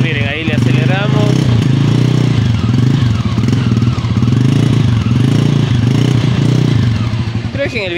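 A new Loncin Rally 300 motorcycle engine started for the first time and revved, a loud close rumble rising and falling in repeated throttle blips, with a voice talking over it.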